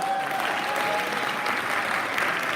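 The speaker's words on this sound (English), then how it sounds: "Give a big round of applause." A poetry event audience claps steadily, a dense, even patter of applause from a room full of people throughout the short stretch.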